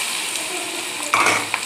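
Ivy gourd pieces hit hot oil seasoned with cumin, asafoetida and turmeric, giving a sudden close sizzle with a stirring hiss and a brief burst of spitting.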